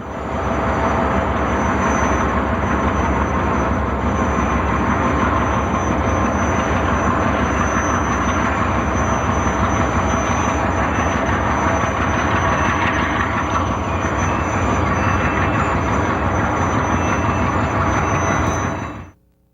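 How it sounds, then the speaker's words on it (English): Diesel locomotives, including run-through engines from eastern railroads such as Norfolk Southern, rumble through the Feather River Canyon in 1996, a loud, steady roar of engines and rolling wagons that holds constant before cutting off abruptly. "the Canyon sub sees run-through locomotives from eastern railroads such as Norfolk Southern"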